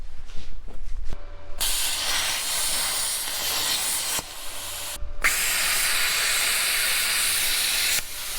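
Plasma cutter gouging out a weld on a rusty International Scout II, a loud harsh continuous hiss in long bursts with brief stops between passes and a faint background tone.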